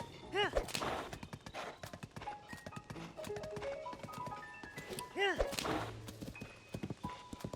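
Horse hooves clatter in quick bursts, loud and close, with a couple of whinnies and game-like effects mixed in, from the video game Zelda: Tears of the Kingdom.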